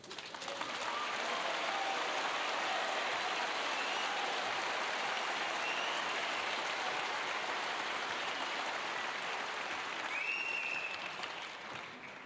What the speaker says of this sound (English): that applause says everything